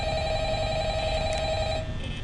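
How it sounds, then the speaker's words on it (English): A phone rings in Five Nights at Freddy's, a steady electronic trill holding for about two seconds before cutting off, fairly loud and alone. "You just heard the phone"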